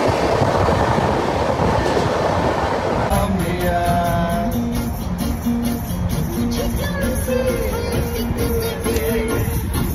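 A train runs on rails at a station platform in Dadar, loud rumbling and rhythmic clatter of wheels with a rising whine and squealing tones as it moves along.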